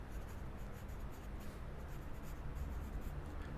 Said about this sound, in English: And then I'm writing place on fold here